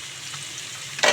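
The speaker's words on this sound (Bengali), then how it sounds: "এই যে আলু ভাজছি" Potatoes crackle steadily as they fry in a pan while vegetarian pasta is being made, with a sharper, louder burst of sizzle right at the end.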